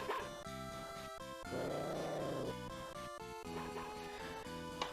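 Boney the dog in Mother 3 gives a few short game-style barks and yips over steady looping background music, with no talking.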